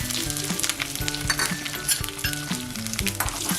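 Mustard seeds, curry leaves and a piece of chili sizzle in hot oil for a tempering, a dense nearby crackle with quick popping and faint metal clinks throughout.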